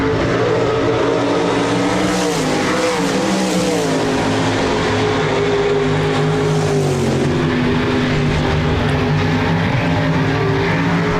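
Hobby stock race cars thunder around a dirt speedway in a pack, loud overlapping engine drones rising and falling as they pass, with crowd-level ambience and no talking over the engines.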